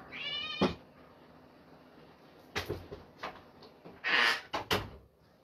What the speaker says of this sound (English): Yeah, you're purring.